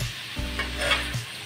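Prawns and chopped papaya cook in a pan, giving a steady close sizzle with a few scraping stirs against the pan.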